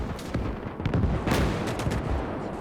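Artillery fire in the World War II game Gates of Hell during a Soviet assault on the Mannerheim Line at Lähde, with repeated heavy booms and impacts over a dense rumbling battle background, mid-distance and steady.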